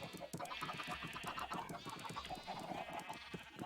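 Many penned Minecraft chickens clucking and squawking in a dense, continuous clamor of overlapping calls, close by, with no talk.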